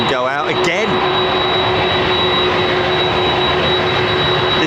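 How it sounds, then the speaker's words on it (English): A Boeing 767-400's jet engines whine steadily at idle at London Heathrow Airport with a sustained high tone over a broad roar; a brief voice is heard at the start. "Listen to that 767 just idling away there."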